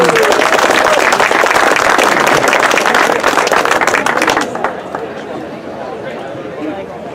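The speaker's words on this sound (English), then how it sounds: "Give applause." Loud audience clapping at an outdoor coastal rail trail groundbreaking celebration in Santa Cruz, thick and close for several seconds before it thins and fades out, leaving quieter crowd murmur.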